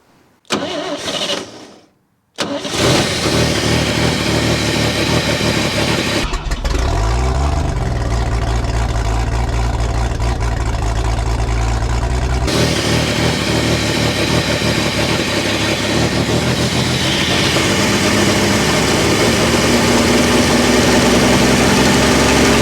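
A 1966 International pickup truck's engine cranks, catches and roars to life, then settles into a loud, uneven, racing idle that surges and wavers for the rest of the clip with no voices.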